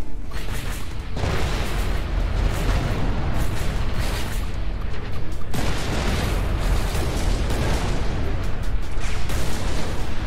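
Bombs going off in the space shooter Everspace 2, a dense, loud roar of booming blasts that swell and overlap continuously, with two brief dips before each fresh burst.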